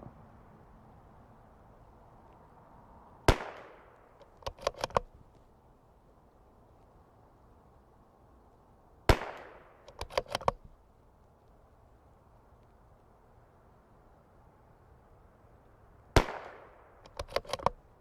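A CZ 457 .22LR precision rifle fired in three spaced shots, each a sharp crack trailed by echoes, with clinks from working the bolt following each shot.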